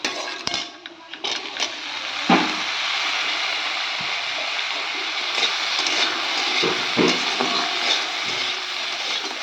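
Eggplant pieces hit hot oil in a pan along with lightly fried potatoes and a pinch of turmeric, giving a steady, close, broadband sizzle that lasts throughout, with a few soft stirring knocks and no talking.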